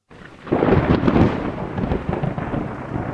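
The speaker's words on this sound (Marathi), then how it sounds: "आभाळ गडगडलं, विजा चमकल्या आणि पहिला थेंब पडला" Loud thunder cracks and then rolls on in a deep, continuous rumble, with no voices.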